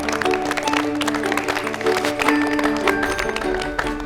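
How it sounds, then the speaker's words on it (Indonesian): Contestants and crew on a MasterChef cooking competition set applaud a departing contestant, clapping steadily over background music with sustained tonal notes throughout. "Tepuk tangan buat Jane dari Probolink."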